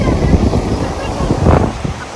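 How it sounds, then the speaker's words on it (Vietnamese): Sea wind blows at a beach, a dense, roaring rush of gusts buffeting the microphone with surf-like wash underneath, loud and close; a voice is faintly mixed in. "nghe gió biển thổi vô á"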